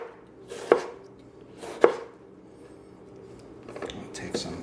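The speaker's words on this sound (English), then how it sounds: "And we'll just chop this up too." A knife chops through fish-taco ingredients on a cutting board, giving two sharp, well-spaced chops followed by a quicker cluster of lighter cuts, close and clear in a quiet kitchen.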